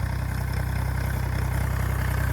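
A tractor engine runs steadily at idle, a low, even throbbing rumble with a regular pulsing beat, close and continuous without any speech.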